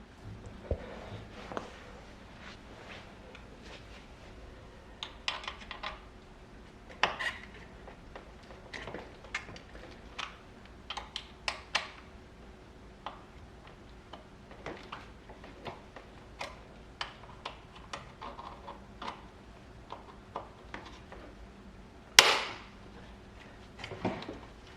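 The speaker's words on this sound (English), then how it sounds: "you're going to have to remove the caliper from the brake rotor" An Allen wrench working on the brake caliper of a Jetson Bolt Pro electric scooter, giving faint irregular ticking and clicking metal taps with one sharper knock near the end, close by and with no voices.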